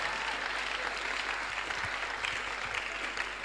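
A church congregation at a Sunday service claps steadily, with even, moderately distant applause and no talking.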